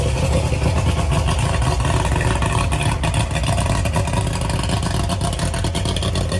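A 1988 Mercury 200 outboard, a 2.4-liter two-stroke V6, runs loud and close at a steady idle, its dense buzzing rumble unbroken throughout with no voices.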